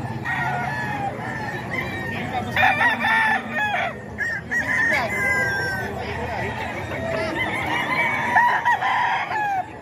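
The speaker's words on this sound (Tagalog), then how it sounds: "Dami magandang manok dito mga ka-idol." Roosters and other fowl crow repeatedly at a poultry market in Tondo, loud harmonic calls rising over clucking, crowd babble and talk throughout.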